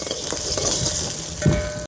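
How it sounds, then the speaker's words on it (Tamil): Whole onions fry in a pan for a dry fish curry, a close, steady sizzle with stirring scrapes and a sharp utensil knock against the pan at the end, no speech. "பொன் நிறமாக வறுத்துரும் எப்படி வறுக்குது முழு வெங்காயம்"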